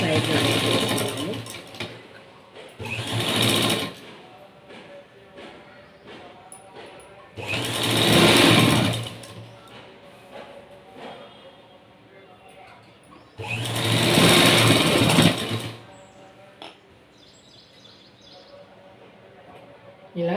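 Sewing machine stitching the side joints of a straight-cut blouse, running in three loud bursts of a few seconds each, with quieter handling sounds in between.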